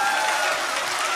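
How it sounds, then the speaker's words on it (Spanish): Applause rises in a congregation during a worship song, a dense wash of clapping that stays steady and fairly loud across the short moment, with a sustained sung or musical tone running through it. "Ríndele un aplauso el fuerte"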